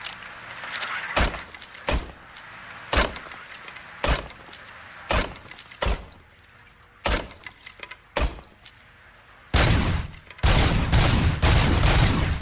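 Single gunshots ring out one after another at roughly one-second intervals in Robocop: Rogue City, loud and sharp with quiet gaps between, ending in a heavier, sustained burst of fire.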